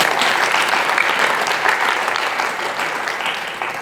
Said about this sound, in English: Clap twice as fast, like this.